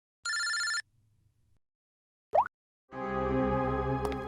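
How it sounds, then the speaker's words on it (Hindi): A telephone rings with a short electronic burst, followed after a pause by a brief rising chirp and then a longer, louder ringtone, all clear and close with no talking. "इनका फोन मत उठाओ तुम।"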